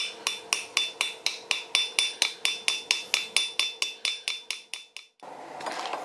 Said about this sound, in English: I'll hammer it out with a very small hammer